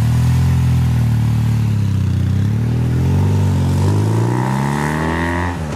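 Police motorcycle accelerating uphill, its engine rising in pitch through the gears in a loud, close, steady roar that eases slightly at the end.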